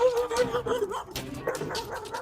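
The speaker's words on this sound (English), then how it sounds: "Number 3, dogs. He's aggressive towards people." An aggressive dog barking and snarling at people, with harsh, rapid, close barks and growls packed tightly together over a loud, busy background.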